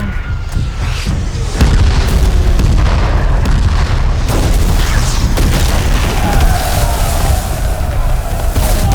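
Deep booms of mobile cannon fire rumble continuously in a film battle scene, a dense barrage of heavy blasts layered over a constant low roar, loud and close.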